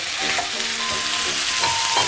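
Diced hot dogs sizzle and crackle in a hot pan, a steady bright frying hiss with occasional stirring scrapes, close and loud.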